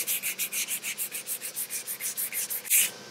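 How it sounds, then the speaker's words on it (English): 400-grit sandpaper scrubs by hand across painted truck body panels on a wrecked 2019 RAM, a close, steady rhythm of about sixteen even back-and-forth rasping strokes, ending in one louder swipe. "so more sanding. We're gonna start off with the 400 grit just to get most of that whatever texture's in there to get it nice and flat"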